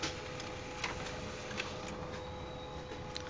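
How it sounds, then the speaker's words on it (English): A black laser printer runs steadily with a constant mechanical hum and faint periodic ticks and clicks from the paper feed, close by and alone. "It's going to print."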